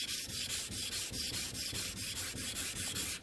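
A scraper blade rubbed back and forth on a 400-grit diamond sharpening stone gives steady, rhythmic rasping strokes, about four per second, close and even, with no talking.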